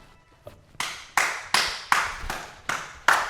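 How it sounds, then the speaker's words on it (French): Slow, deliberate clapping from a small group, about seven distinct claps spaced evenly with short echoing decay, close and fairly loud with no talk during it. "Bravo Yanis, on peut applaudir."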